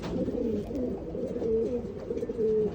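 A Cuban Thief Pouter pigeon coos steadily in a Miami loft, a low, continuous, rolling murmur close by with slight pulses, no talking.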